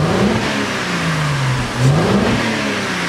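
A Mercedes E350 with a V6 engine is revved, the engine rising and falling through two throttle blips over a steady idle, loud and close with no voices.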